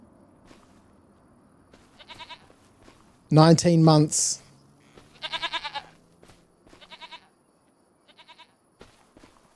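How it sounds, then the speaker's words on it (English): Goats in the Farming Simulator 25 video game bleat several times: a loud, close, wavering bleat stands out amid shorter, fainter calls spread across the stretch, while someone talks over them. "Look how cute this little goat is."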